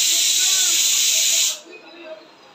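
A pressure cooker full of cooking dal gives off a loud, steady hiss of escaping steam that cuts off abruptly partway through, leaving quiet kitchen room tone.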